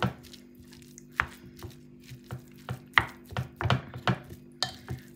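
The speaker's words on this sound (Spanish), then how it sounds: "Vamos a revolver." A small wooden spoon knocks and thuds steadily in a bowl as burger meat mixture is stirred, producing a series of close, dull taps about every half second with no voices.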